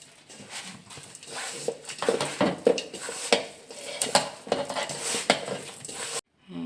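Maddur vada dough being mixed by hand in a bowl, giving close, irregular clinks, scrapes and soft slaps that run on steadily before stopping abruptly.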